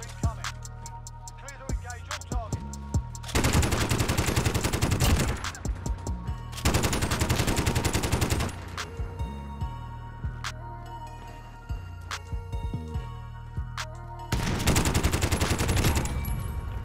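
An MP5 submachine gun fired in Call of Duty Warzone: repeated long bursts of rapid automatic fire over continuous game sound, with short pauses between bursts and clicks and metallic handling noises in the gaps.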